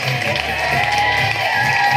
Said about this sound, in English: Give Dave a big round of applause.